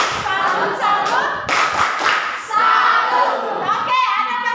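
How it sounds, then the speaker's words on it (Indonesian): A school class claps in a 'tepuk salut' rhythm, loud and close, with several quick bursts of hand claps. Children's voices chant along between the bursts. "Mari kita kasih tepuk salut ke mereka"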